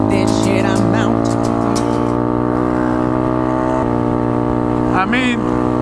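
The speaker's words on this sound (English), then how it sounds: "when you're in neutral and you're just like revving it like burly. Like it pops a little bit" A Honda Grom motorcycle with a full Toast exhaust idles loudly with rising engine tones, close up, while someone talks over it.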